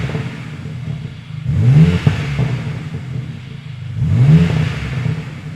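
A BMW M4 Competition in speed yellow, set to M2, blipped through two light revs, each engine note rising then falling, loud and close with idle burble in between.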